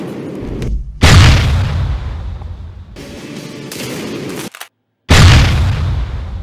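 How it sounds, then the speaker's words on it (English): A T-90M tank's 125mm main gun fires three heavy, booming shots, each a sudden blast with a long rumbling decay, spaced a couple of seconds apart with no talking. "Shooting the main gun of the T-90M was an unbelievable moment."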